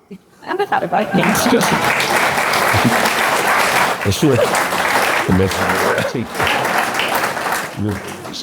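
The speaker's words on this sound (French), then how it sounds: "J'avais prévu que vous applaudissiez, là." Audience applause fills a hall during a New Year's address by a French politician, a loud sustained ovation of many clapping hands with a few chuckles mixed in.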